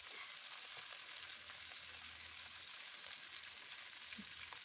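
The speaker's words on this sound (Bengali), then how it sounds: "তেলটা প্রথমে ভালোভাবে গরম হয়ে গেলে পুঁটি মাছগুলো দিয়ে একে একে ভেজে নেব।" Small puti fish fry in mustard oil, giving a continuous soft, even sizzle with faint crackles, heard alone and at low volume with no talking.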